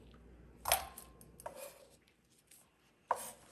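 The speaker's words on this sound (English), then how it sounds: "I cut some white onion" A knife chops white onion on a cutting board: three sharp, separate cuts spread over a few seconds, quiet and close, with no talking.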